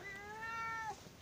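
A cat gives a single drawn-out meow, clear and fairly close in a quiet outdoor setting at sunset, with no talking over it.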